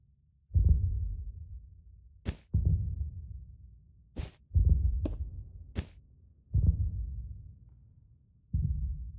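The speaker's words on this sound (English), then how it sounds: "I don't want the heartbeat sound," Video-game heartbeat from Minecraft: six slow, deep thumps at steady intervals, each a low throb fading out, with brief sharp clicks between some beats and no talk.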